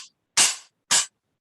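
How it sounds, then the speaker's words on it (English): Two sharp, trashy crashes from a stack cymbal made of two heavier baby cymbals, the bottom one with a bell, on a drum kit. The hits are loud and close, each with a short bright decay and a clear gap between them. "it's two heavier baby cymbals. And the bottom one does have a bell to it."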